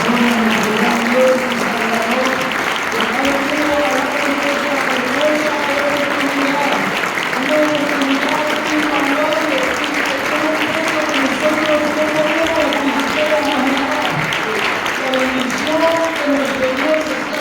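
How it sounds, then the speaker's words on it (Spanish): Congregation at a regional youth church service applauds warmly and steadily for the whole stretch, a dense crowd texture with sung or spoken voices rising through it. "le damos un fuerte aplauso con todo el corazón"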